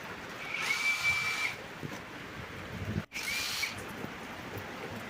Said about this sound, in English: I was using my drill, the hammer drill, to fuse the earth rod into the ground.